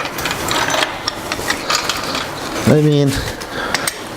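A ratchet clicks rapidly as bolts come off the rear shock linkage of a Ducati 749 motorcycle, a short close burst amid constant background noise with someone speaking briefly.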